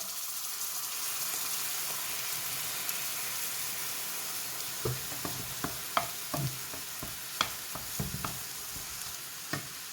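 Potatoes with egg being stir-fried in a cream sauce over low heat, a soft steady sizzle with several sharp clatters of a spatula against the pan in the second half, no talking.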